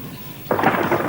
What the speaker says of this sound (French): qu'il y a un gros orage dans l'île aux enfants